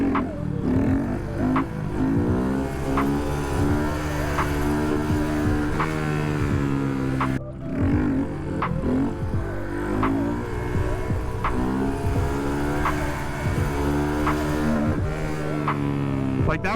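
Honda Grom motorcycle exhaust running steadily close by, a throbbing engine drone with faint intermittent pops and crackles, dipping briefly midway before carrying on.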